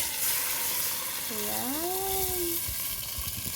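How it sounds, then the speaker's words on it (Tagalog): Beef broth, taken from the earlier boiled meat, is poured into a hot pan, producing a continuous loud sizzle and splatter. A voice speaks briefly over it. "ilalagay ko na po ang beef broth, yung pinagpakuluan po ng karne kanina. Dahan-dahan lang po dahil tumatalsik."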